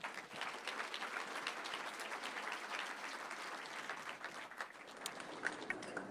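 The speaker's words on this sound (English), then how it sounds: "Give the round of applause for that." A crowd at a high school campus event gives a steady round of applause, with continuous dense clapping at an even level that runs throughout with no speech over it.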